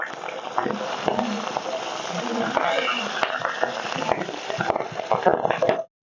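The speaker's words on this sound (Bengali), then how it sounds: "মাছের মাথাগুলোকে লাল লাল করে ভেজে নিয়েছি" Fish heads frying in oil in a pan, a loud, dense crackling sizzle that runs steadily and then cuts off abruptly near the end.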